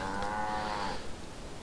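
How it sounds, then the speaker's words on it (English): A single drawn-out moo from a cow on a Guild Wars 2 farm, heard close and clear before it fades out. "In this case, it's feeding cows"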